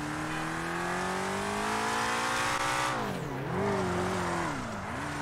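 A BMW driven in GTA 5, engine revving up in a long rising pitch, then dipping and surging again as gears change, loud and steady with a faint tire squeal.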